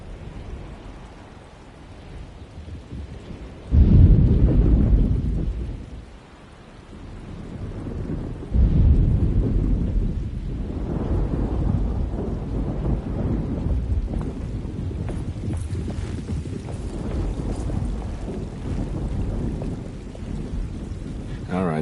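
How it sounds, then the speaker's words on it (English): Thunderstorm in the Alone in the Dark game: heavy rumbling thunder rolls in around four and nine seconds over a steady bed of rain and wind that continues throughout. "Just keeping an eye out for the storm. Radio says it could be a wild one."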